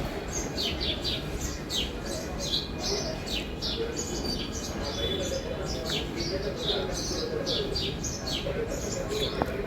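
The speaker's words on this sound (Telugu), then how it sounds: "ఎన్ని పక్షులు ఉన్నాయి చూడండి" Many small birds chirp and tweet at once in a dense, continuous chorus, with a steady low murmur of background noise underneath.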